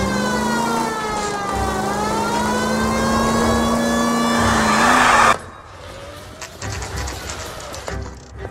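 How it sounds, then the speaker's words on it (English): A loud police siren in the game L.A. Noire wails steadily at close range, then cuts off abruptly, followed by quieter scattered noises and a brief rising tone. "The siren."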